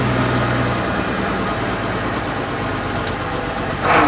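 An AEC Routemaster London double-decker bus on the move, its diesel engine giving a steady, loud, low rumble that continues throughout, with a brief brighter rattle near the end.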